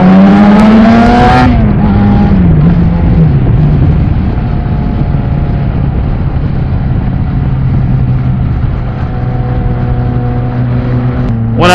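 A car on a Dallas neighborhood street revs hard, its engine pitch climbing and dropping, then roars past loud and close in a sustained racing drone.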